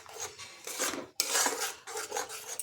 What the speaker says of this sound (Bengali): এখন খুব ভালোভাবে কষিয়ে নিতে হবে।